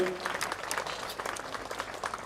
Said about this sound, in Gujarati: આપણે સૌ તાળીઓના જોરદાર ગડગડાટથી વધાવીએ।